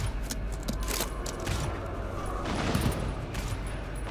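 Heavy gunfire and a blast-like rumble erupt in the co-op shooter GTFO, with dense crackling bursts and metallic rattles sustaining loudly across the whole moment.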